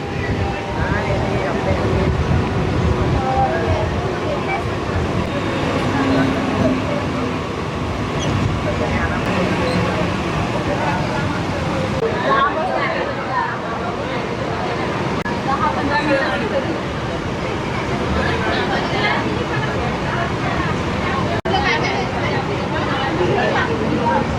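A Virar–Dahanu local train runs along the line, a dense, loud rattle and rumble of carriages continuing throughout, with a voice narrating and passengers' chatter mixed in.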